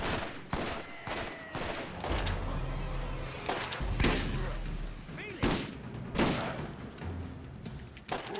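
Rapid gunfire bursts in the Borderlands video game, repeated sharp shots and thumps across the scene amid low game rumble, with people talking over the action.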